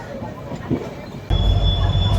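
Kulik Express passenger train with LHB coaches hauled by a WAP7 electric locomotive, a rumbling ride that suddenly swells louder with a deep roar and a thin high whine.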